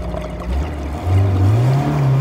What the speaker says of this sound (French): Là c'est le moteur qui aspire l'eau là.